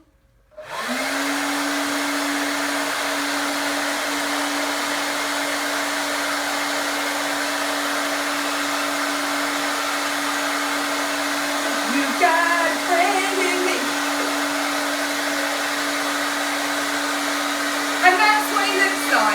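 A portable clothes dryer switches on and settles into a loud, steady whirring drone with a constant low hum, with a few faint clicks and rustles near the end.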